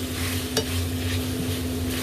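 Mushrooms are stir-fried in a pan with melting vegetable stock for a choy sum, mushroom and meat dish: a steady, close sizzle with a utensil scraping and stirring, and no talk.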